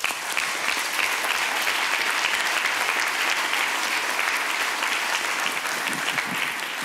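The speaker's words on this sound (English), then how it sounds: "A big round of applause to all of you." Sustained applause from a conference audience at a JavaScript developer event, a steady wash of many hands clapping at moderate level for several seconds, no voices over it.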